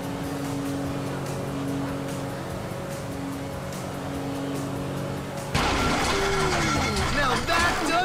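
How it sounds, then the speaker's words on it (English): A car engine in the video game GTA 5 drones steadily with a humming tone, then abruptly shifts to a louder, harsher mix of warbling, sweeping noises as it starts failing. "Now that doesn't sound good! Hey, that's the engine, man."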